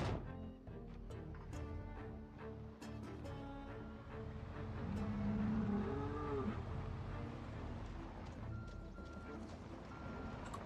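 Cattle moo in the Project Zomboid video game, a drawn-out low moo rising mid-clip over a busy game soundscape with clicks and a steady fan-like hum; a voice talks over parts of it.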